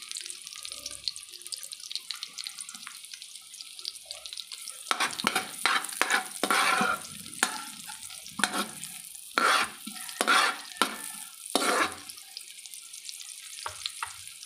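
Chopped onion sautés in hot oil in a pan, a steady close sizzle with stirring scrapes that grow louder and more frequent in bursts through the second half.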